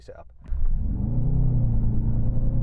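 A Mercedes-AMG engine set for a launch-control start catches after a brief mechanical click and settles into a deep, loud, steady rumble close by.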